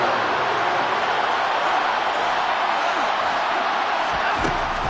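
A football stadium crowd in a video game roars steadily ahead of a big third down against Pittsburgh and Minnesota, a dense, loud, unbroken wash of cheering with a brief thud near the end.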